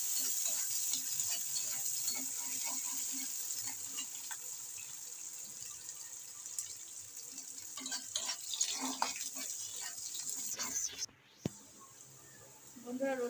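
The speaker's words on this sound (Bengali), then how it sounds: "রসুন আর লঙ্কাটা ভাজা ভাজা হয়ে গেছে" Garlic and green chillies fry in a little oil in a home kitchen, a continuous soft sizzle with occasional stirring clatter, fairly close, while a person talks over it.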